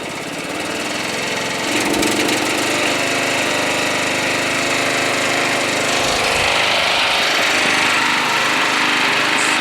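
A Murray Select lawn tractor engine revs up to a higher throttle, its loud, steady buzzing roar rising and then holding continuously for several seconds, close and with no talking.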